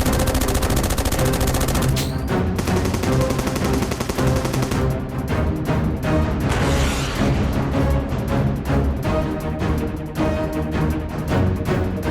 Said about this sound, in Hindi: टैंगो, मेरी गोलियां इस सुपर स्पीडो के आर पार जा रही हैं